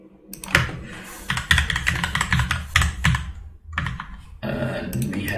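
Fast typing on a computer keyboard during web coding work: a close, rapid clatter of keystrokes arrives in quick bursts separated by brief pauses, with no talking.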